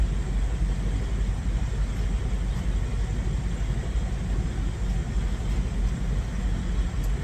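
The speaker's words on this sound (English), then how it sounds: "So yeah, you're gonna hear idling trucks." Several trucks idle on an early winter morning in Matthew, Missouri, making a steady, continuous low diesel rumble that holds at an even level throughout with no talking.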